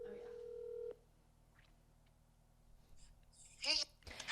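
A phone on speakerphone dials a call: a short held tone, then sparse faint beeps and clicks before a brief burst of voice near the end.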